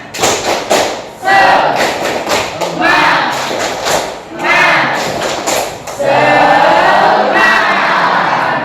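A junior high school class claps in a quick rhythmic pattern, mixed with loud shouting voices and chanting, close and energetic throughout.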